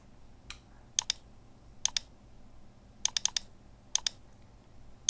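Typing on a computer keyboard while building a PDF design in Photoshop: sparse, crisp key clicks come in short clusters of two or three with quiet gaps, close and fairly faint over a low hum.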